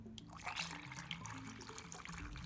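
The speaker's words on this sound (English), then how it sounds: "all I'm going to do now is pour my dissolved gelatin solution into these 3" Dissolved gelatin solution is poured into three containers in a quiet kitchen, a faint, steady trickle running without talk.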